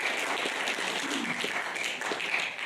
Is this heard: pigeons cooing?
no